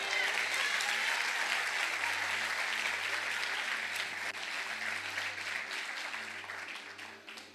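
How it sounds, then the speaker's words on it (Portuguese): A church congregation claps together in sustained, even applause that stays loud and dense, then gradually thins and softens toward the end, with a low hum underneath. "Aleluia, você pode aplaudir ao Senhor."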